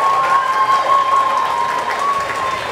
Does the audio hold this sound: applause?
yes